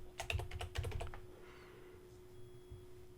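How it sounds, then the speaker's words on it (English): Quick bursts of keystrokes on a computer keyboard, a short flurry of close, crisp clicks that fades into quiet room tone. "and we're going to type in Yoast."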